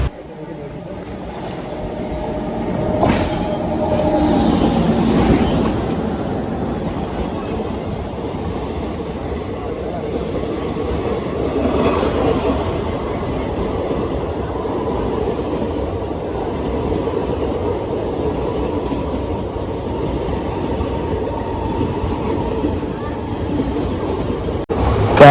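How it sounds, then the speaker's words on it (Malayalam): A Mangaluru to Chennai passenger train pulling into a station, a loud continuous rumble and rattle of rail cars rolling past for most of the clip, with brief talk early on. "ഇത് മംഗളൂരിൽ നിന്ന് ചെന്നൈ വരെ പോകുന്ന ട്രെയിനാണ്"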